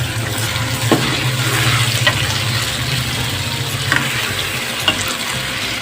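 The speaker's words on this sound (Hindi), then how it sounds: "दो से 3 मिनट तक इसको फ्राई करेंगे।" Potatoes frying in a pan for a potato and egg curry, giving a loud continuous sizzle with a few brief clinks of stirring.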